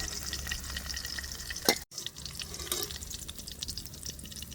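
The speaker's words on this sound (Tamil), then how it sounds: "கத்தரிக்காயும் பொரிஞ்சிட்டுது." Eggplant frying in a pan of oil for vegetable noodles, a soft steady sizzle and crackle with light bubbling that carries on throughout, briefly broken by a short sharp clatter and dip near the middle.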